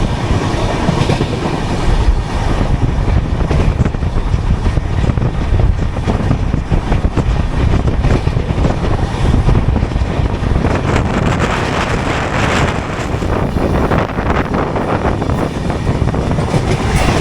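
The Purba Express rolls past with loud, continuous rumble and clickety-clack of wheels on rails, mixed with heavy wind buffeting on the microphone and no speech throughout.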